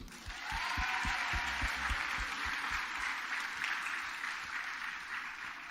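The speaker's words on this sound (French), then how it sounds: "On peut applaudir les pasteurs" Audience applause for the pastors at a church's 30th anniversary celebration, steady broadband clapping from a crowd lasting several seconds, with low thumping beats underneath.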